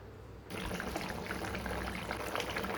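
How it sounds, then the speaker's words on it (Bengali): Water is poured into a pot of cooking greens and potato curry: after brief quiet, a steady splashing pour begins and continues close and clear for over two seconds. "এই পর্যায়ে আমি জল দিয়ে দেবো, একটু বেশি করেই দেবো"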